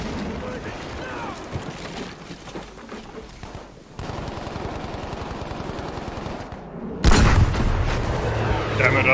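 Panzerfaust anti-tank launcher fired in the snowy Battlefield V battlefield, a sudden loud blast near the end that cuts through steady gunfire and rumble, after a brief near-silent gap, with a player's voice heard in the mix.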